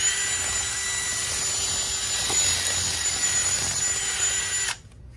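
A drill-powered DIY weed trimmer cutting weeds, a steady high whining motor drone with a brief change in pitch as it strikes growth, loud and close, then stopping abruptly near the end.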